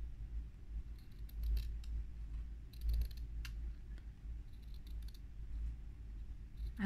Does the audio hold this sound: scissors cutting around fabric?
yes